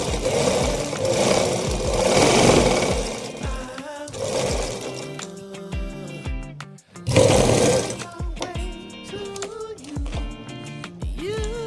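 A sewing machine stitches a doll's saree in several loud, fast-running bursts separated by brief pauses, with the motor whining as it speeds up and slows down.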